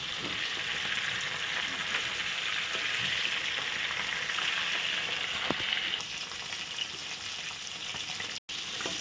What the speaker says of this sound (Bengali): পরের পাশ সুন্দর করে উল্টে দেওয়া হয়ে গেল সবগুলো